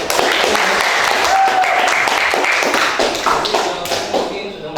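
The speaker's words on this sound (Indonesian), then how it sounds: "Bagus ya, tepuk tangan ya." Students in a classroom clap together, a dense, continuous patter of hand claps with some thumps that stays loud throughout before thinning slightly near the end.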